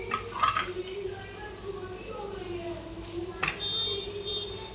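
Knife cutting through a chocolate cheese sandwich with bread toasted crisp in the oven, a couple of sharp clinks and scrapes against a plate over a low background hum, with a voice talking.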